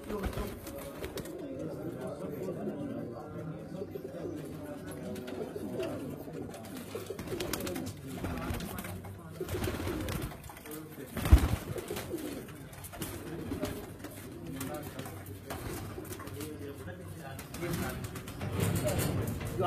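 Bred pigeons coo softly in a loft in Ras Al Khaimah, UAE, a continuous low murmuring of several birds with a brief louder bump midway and faint background noise throughout.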